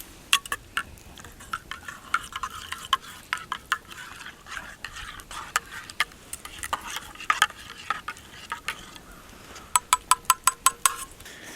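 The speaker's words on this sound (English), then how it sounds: "You just take them and you dump them in, stir them up a bit, and they are ready to go." A metal spoon stirs instant coffee in a cup at a winter hammock campsite, a quick scraping swirl with scattered clinks, then a final run of bright, rapid taps against the rim.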